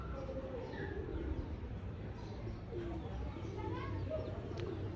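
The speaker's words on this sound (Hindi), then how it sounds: "तो आज काफ़ी वाम ने कबूतर शूतर निकाले हैं भाई, उड़ाए हैं" Pigeons coo softly in a low, repeated rhythm on a pleasant-weather day, with faint chirps and a steady background murmur running underneath.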